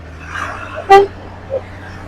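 A single short car horn toot sounds clearly over steady low traffic rumble, with a fainter second beep shortly after and some background voices.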